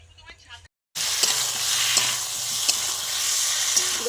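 Spices sizzle hard in hot oil while being stirred for a village-style tilapia curry, a loud steady crackle that starts abruptly after a brief quiet moment and continues with occasional scraping clicks.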